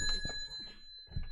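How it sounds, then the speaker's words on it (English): A bell rings with bright, sustained metallic tones that hold steady through the stretch, fairly quiet, alongside a few soft low knocks. "Simple as hell, and she got the bell."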